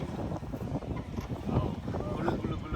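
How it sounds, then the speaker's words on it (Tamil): Cold wind buffets the microphone during a boat ride on water at Frazer Hills, a constant rough roar with gusty swells throughout, while people talk underneath. "குளு அடிக்குது காத்து"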